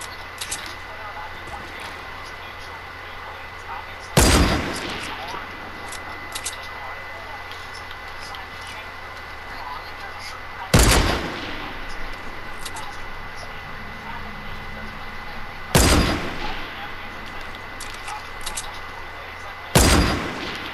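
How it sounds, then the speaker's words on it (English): Sniper rifle shots in a video game, four sharp loud cracks spaced several seconds apart over a steady hum of game ambience, with people talking in between. "I'm sniping down people over there, but I can't hit them."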